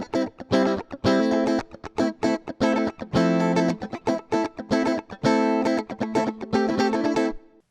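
Compressed funk electric guitar core tone from a Fractal FM3, playing choppy rhythmic chords and short muted stabs in a steady groove, loud and clear with no voices.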